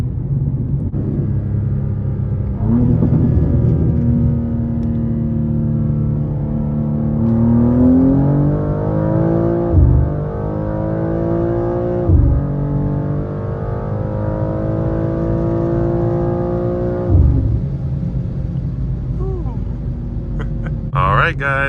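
A BMW G87 M2 running E30 fuel with a CS tune pulls hard from 60 to 130, the engine note climbing through several gear changes with brief dips between, loud and close inside the cabin.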